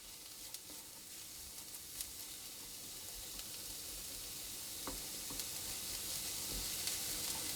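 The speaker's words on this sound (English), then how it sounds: "I'm just going to sweat them down until they've softened" Onions, celery and carrots sweat gently in a pan, giving a steady low sizzle with faint crackles and an occasional soft tick, heard alone without talk throughout.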